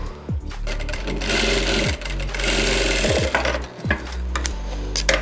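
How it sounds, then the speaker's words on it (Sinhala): A sewing machine hums loudly and steadily as it stitches a hem on slightly stretchy fabric, pausing and restarting in short runs of a second or so, with no talking. "දැන් මේක ටිකක් ඇදෙන රෙද්දක් නිසා මේ පැත්තෙන් මම වාටිය මහනවා."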